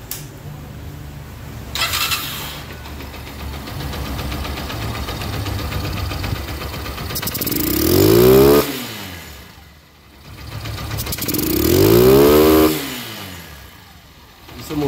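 A motorcycle engine with a repaired carburetor that had an air leak, running continuously and rising twice into strong revs before dropping back toward a low idle, with someone speaking over it.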